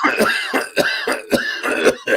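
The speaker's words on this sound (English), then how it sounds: "That was some impressive phlegm" A run of repeated wet coughs, about seven or eight harsh bursts in quick rhythm, close up and loud with short gaps between them.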